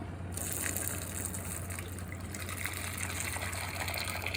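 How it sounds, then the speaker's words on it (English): Boiling water gushes steadily as it is poured over tomatoes, a continuous splashing rush with a low hum underneath. "Chuck boiling water over it."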